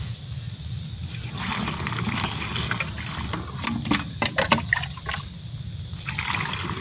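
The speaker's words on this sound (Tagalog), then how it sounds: "lalagyan natin ng maraming tubig" Water pouring into a pesticide sprayer tank to flush the line after chemical use, a steady trickling and splashing with brief louder bursts midway, close and alone.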